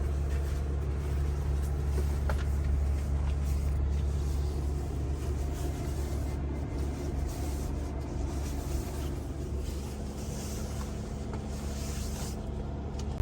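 A Winnebago Revel Sprinter 2500 4x4 camper van merges onto the highway on a cold day, heard from inside as a steady low engine drone and road rumble with no speech.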